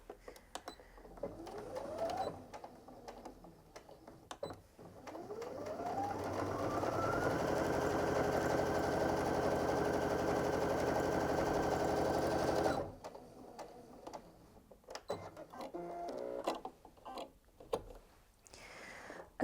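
A Brother Innov-is F580 sewing machine stitches through four layers of fabric, its motor whirring up to a fast, steady rattling hum for several seconds, preceded and followed by shorter bursts and clicks, close and alone.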